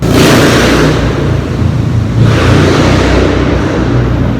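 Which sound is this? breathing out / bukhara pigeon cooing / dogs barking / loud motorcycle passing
loud motorcycle passing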